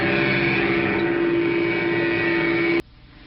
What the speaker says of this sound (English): Sounds like a real engine.